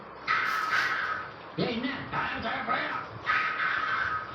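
Crows caw loudly in repeated bursts nearby outdoors, with a brief bit of talk from a person in between the calls.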